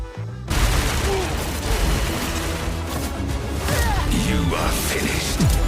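Ramattra's primary fire in Overwatch, a dense, continuous barrage of rapid mechanical shots and crashing impacts from the game, loud and busy throughout, with other game sounds mixed in.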